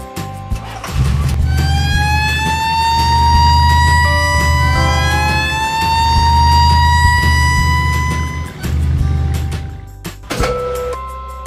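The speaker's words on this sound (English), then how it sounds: "Black police car." A wailing electronic siren rises and falls continuously for several seconds, loud and close, with a low rumbling hum underneath and a short break near the end.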